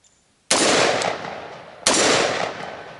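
A long gun fired at a target from 20 yards, two loud, sharp blasts about a second and a half apart, each trailing off into a long echoing decay, with no talking.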